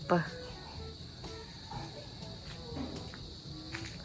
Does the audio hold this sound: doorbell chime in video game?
no